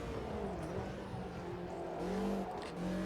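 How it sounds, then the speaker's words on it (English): Exhaust rasp of a BMW touring car in a sim racing game, a steady engine drone holding and shifting pitch through about three seconds, loud and close with no talk. "They've got that BMW exhaust note, that rasp, but it doesn't seem to have quite so much weight to it as the AC version."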